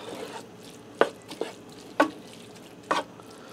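Ground beef with other ingredients being stirred together for a hashbrown hamburger casserole in a Power XL air fryer grill combo on its saute setting: a few sparse, sharp spoon knocks and scrapes against the pot over quiet background.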